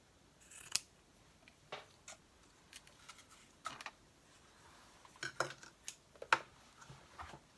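Scissors snip through fabric for a small tag topper, a scattered series of crisp, close cuts separated by quiet pauses, with no voices.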